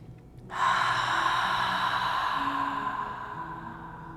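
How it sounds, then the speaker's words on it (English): A single deep, cleansing exhale during a yoga class starts abruptly and flows out as a long, airy breath, close and fairly loud, then slowly tapers away with no speech. "Give yourself a cleansing breath."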